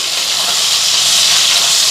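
Koi fish frying in hot oil as they are turned over in the pan, giving a loud, dense, unbroken hiss of sputtering oil throughout the short stretch.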